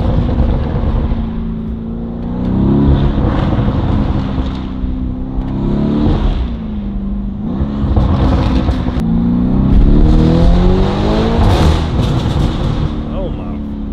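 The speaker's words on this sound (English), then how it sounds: "Listen to these pops in that lamb truck" A Lamborghini Urus truck revs nearby, its engine rising and falling in repeated swells with crackling exhaust pops toward the end, loud and continuous while someone talks over it.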